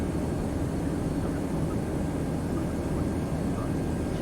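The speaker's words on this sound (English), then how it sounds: "Josh, this is the plane that I reconfigured, like with the fuel modeling and stuff." An airplane engine in a flight simulator game, a reconfigured aircraft with custom fuel modeling, gives a steady droning cabin roar that holds at the same level from start to finish, with no speech.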